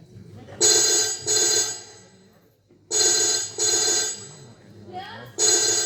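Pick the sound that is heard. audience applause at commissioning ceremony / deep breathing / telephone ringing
telephone ringing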